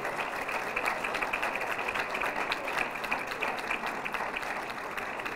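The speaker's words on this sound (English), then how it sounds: "Let's give them a round of applause." A round of applause from the audience at a city news conference honoring a local organization, steady moderate clapping heard from a little distance, continuous and without talk.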